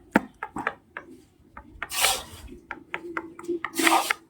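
Newly installed floor tiles tapped and knocked in many spots to confirm they are solidly set, giving a quick irregular series of close, dry, hard knocks mixed with scraping rubs.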